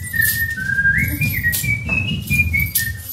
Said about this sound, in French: Vous passez à côté d'eux en sifflotant.